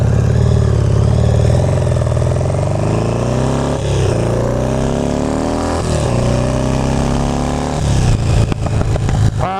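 Small two-stroke engine running on two-stroke fuel mix, a loud buzzing drone that rises and falls with repeated revs, close by and alone, with rougher bursts near the end.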